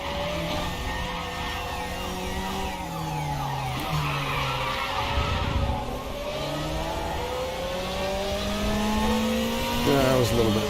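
Engine roar of an Italian sports car racing at Circuit Zandvoort in a racing video game, with engine notes that rise and fall and a tyre squeal as the car slides, while a voice talks over the engine throughout.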